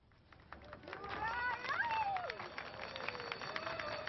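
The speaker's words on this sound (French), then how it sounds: "Ils applaudissent le départ du tramway" A crowd in Sarajevo claps and cheers as a tram departs, the applause swelling to a broad, fairly distant wash, with voices and a faint squeal mixed in.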